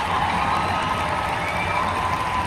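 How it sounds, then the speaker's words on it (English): A crowd of fans applauds and cheers in a played recording, a dense, steady wash of clapping and whoops that holds at an even, fairly loud level throughout. "Listen to this disgusting applause."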